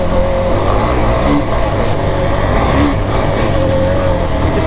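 Kawasaki KFX 450R ATV engine pulling hard in top gear, a steady loud drone with a faint whine shift partway, running continuously at close range.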